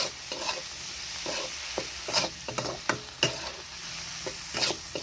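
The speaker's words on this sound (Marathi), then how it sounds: "आणि आता यानंतर भेंडी टाकते. भेंडी चांगली मिक्स करून घ्यायची." Okra tipped into a hot pan and stirred, a spatula scraping and clacking in irregular bursts over a soft, steady sizzle of frying.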